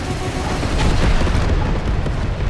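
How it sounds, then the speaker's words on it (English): Sideways missiles burst in a video game as one dense, roaring explosive wash that swells loud and fills the short clip with no talking. "I'm just going to do the sideways missiles on him."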